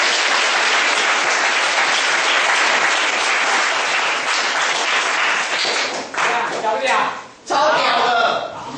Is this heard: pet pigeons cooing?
no